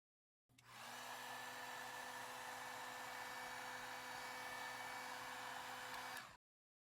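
A hot-air tool heats the adhesive under the screen of a Motorola Moto G7 during a display replacement. It gives a steady, loud, hair-dryer-like whoosh that starts abruptly, holds for about six seconds, then cuts off, with no talking.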